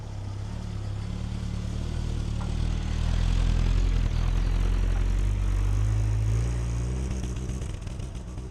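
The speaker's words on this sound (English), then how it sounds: "That extra spluttering you might have heard is because when the choke is on, the fuel mixture is completely off, so it's running way too rich." An idling car engine sputters and chugs unevenly while warming up with the choke on and the mixture running rich, close and steady with a low rumble that swells slightly midway, outdoors at a parking spot.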